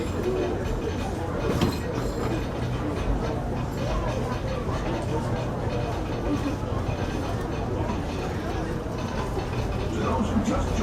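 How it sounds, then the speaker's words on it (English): Disneyland Railroad train running, a continuous low rolling rumble with occasional clinks and clanks, heard from aboard under a voice talking. "welcome aboard the Disneyland Railroad"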